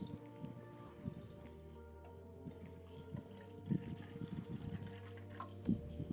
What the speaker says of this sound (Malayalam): അപ്പോൾ നമുക്ക് ആദ്യം കുറച്ച് വെള്ളം പാർന്ന് വെക്കാം